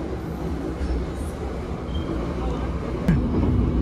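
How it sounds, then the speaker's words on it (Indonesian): The Gajayana executive train runs on single-track rails, gathering speed on a straight stretch after a station, with a continuous low rumble and clatter that swells slightly toward the end. "Setelah lepas stasiun Rejo Tangan ini, kecepatan kereta api Gajayana semakin meningkat."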